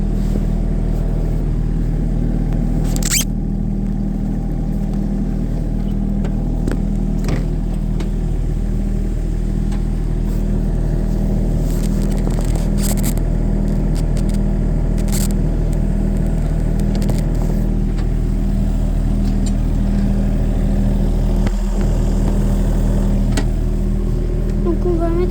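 A machine's engine runs steadily at mid pitch while the throttle is eased back and opened again, with speech and scattered clicks and knocks over the hum.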